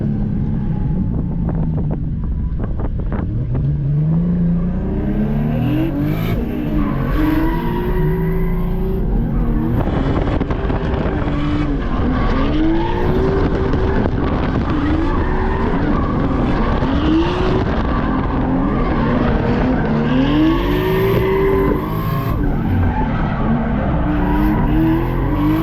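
Toyota JZX90 and Nissan R32 drift cars skid together in tandem, engines roaring loud and close with wavering pitch, tyre squeal and heavy wind buffeting throughout.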